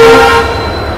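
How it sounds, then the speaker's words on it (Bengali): The 12871 Ispat Express pulls into a railway platform, sounding a loud, close horn blast that fades out within half a second. "আর ঢুকছে আমাদের ট্রেন ইস্পাত এক্সপ্রেস, ঢুকছে 12871 ইস্পাত এক্সপ্রেস।"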